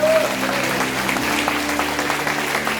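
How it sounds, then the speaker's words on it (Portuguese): A church congregation claps together in a dense, steady burst of applause, with a sustained musical tone humming underneath. "Você pode aplaudir a Deus pela vida dessa família?"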